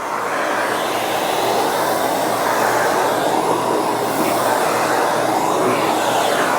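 A Miele Guard S1 Parquet vacuum cleaner running at maximum suction on a hard floor, a loud, steady, close whooshing whine with slight swells as it is pushed back and forth, with no talk.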